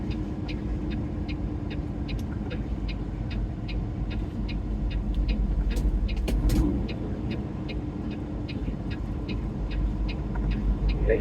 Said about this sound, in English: Pickup coming to you outside, boys.